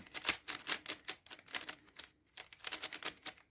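Rapid bursts of crisp plastic clicking and clacking from a twisting magnetic Moyu Huanmeng YS3M speed cube, close up and uneven in rhythm, with short pauses.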